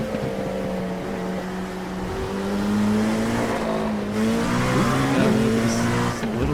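An LMP2 prototype race car in the iRacing sim, chasing GT3 cars during an IMSA race, roars close and loud as its engine note climbs and drops through shifts, with faint tire squeal, and no voices.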